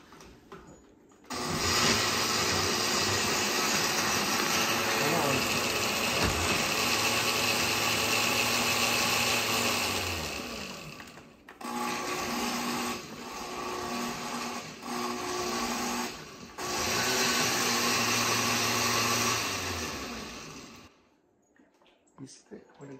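A blender whirs continuously as it churns a thick oily mixture, loud and steady for long stretches with a few brief stops and restarts, and a voice talks in between.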